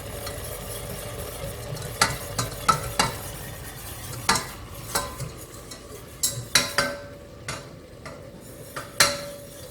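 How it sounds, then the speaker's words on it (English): Rice flour being stirred into melted margarine in a pot, a spoon scraping and clinking against the metal in irregular knocks over a soft steady sizzle, close and moderately loud with no talking. "I can start to add a little bit of the rice flour and start to mix that in."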